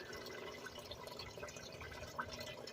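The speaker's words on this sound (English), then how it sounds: "Now it's flowing, ain't it? See that shit? Water going every goddamn where." Coolant water running and spattering out of a Lincoln Aviator V8 4.6L radiator during replacement, a steady broadband wash of dripping and splashing with no voices.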